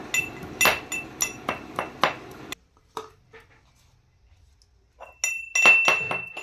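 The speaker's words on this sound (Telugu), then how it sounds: "నేను ఇక్కడ ఎల్లిపాయలు ధనియాల పౌడర్ వేసి దంచుతున్నా" Garlic cloves and coriander powder pounded in a mortar: a run of sharp, clinking pestle strikes, a short pause, then another burst of ringing blows close by.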